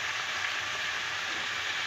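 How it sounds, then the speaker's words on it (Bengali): Ginger, garlic and onion masala frying in a pan while cooking a fish curry produces a steady, even hiss, soft and continuous with no pauses or stirring strokes. "আদা রসুন পেঁয়াজ মশলাটা ভালো করে কষিয়ে নিয়েছি"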